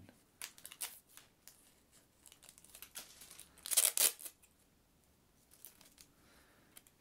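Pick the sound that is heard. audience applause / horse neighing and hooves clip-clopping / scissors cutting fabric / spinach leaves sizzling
scissors cutting fabric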